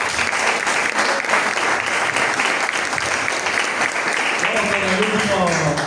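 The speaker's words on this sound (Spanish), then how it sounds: "un fuerte aplauso de vuelta para Jorge." Loud, sustained applause from an audience at a literary event fills the whole stretch, dense and steady, with a voice starting to speak near the end.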